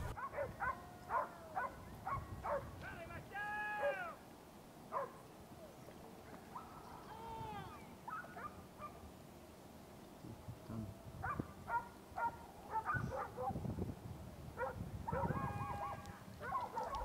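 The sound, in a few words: hunting dogs barking during a boar hunt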